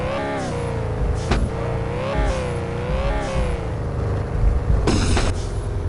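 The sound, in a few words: car engine revving in a video game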